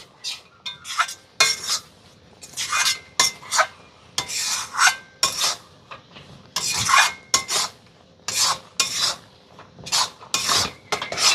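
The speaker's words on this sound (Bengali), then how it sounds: "আর কর্নফ্লাওয়ারটা দেওয়ার পরপরই কিন্তু সঙ্গে সঙ্গে নাড়াচাড়া করে মিশিয়ে নিতে হবে।" A utensil scrapes and clinks in a pan as a raw mango sandesh mixture with cornflour is stirred, in repeated rasping strokes with short pauses, close and clear with no talking.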